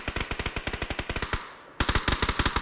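Rapid automatic gunfire in a video game, two loud close bursts of evenly spaced shots split by a brief pause.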